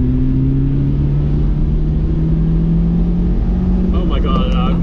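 A Daihatsu Hijet kei truck engine drones loudly from inside the cab, its pitch climbing steadily as it revs while accelerating, over constant road rumble.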